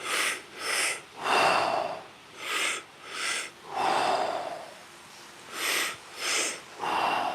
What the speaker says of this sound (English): 20 seconds left of these wonderful deep breaths.